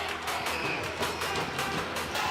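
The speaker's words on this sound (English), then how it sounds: "And you can hear the crowd." A large esports arena crowd at an MPL PH Mobile Legends match cheers and applauds in a dense, steady roar that fills the whole moment without any break.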